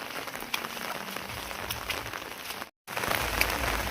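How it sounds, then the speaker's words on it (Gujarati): Steady rain patters on surfaces in a Gujarati village near a cattle shelter after a heavy downpour, a dense continuous hiss with a brief dropout near the end. "વરસાદ ચાલુ છે"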